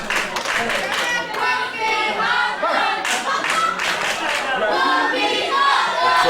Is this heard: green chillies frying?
no